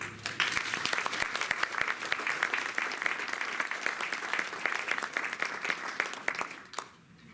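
An audience claps steadily to welcome Andrew Delmonte, president of Nickel City Housing Cooperative in Buffalo, New York, as he takes the stage; the applause is sustained and even for about seven seconds, then fades out.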